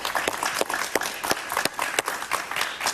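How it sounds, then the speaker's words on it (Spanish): A television studio audience applauds a guest, dense clapping from many hands filling the room, close and lively for a few seconds with no talk over it. "la recibimos con un aplauso, por favor"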